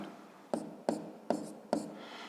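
Hand-writing a math equation for a fifth-grade exercise: four short scratchy strokes of pen or marker on a surface, evenly spaced and close, with faint room noise between them.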